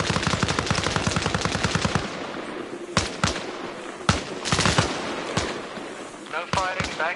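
Rapid automatic gunfire bursts in the military video game Arma Reforger, a long sustained stream at first, then scattered loud single shots and short bursts, with voices talking over parts of it.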